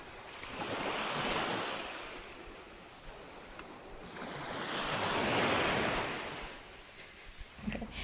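Waves roll onto the beach at Ukulhas in the Maldives, swelling and washing in two broad surges, with a steady breezy rush beneath and no speech.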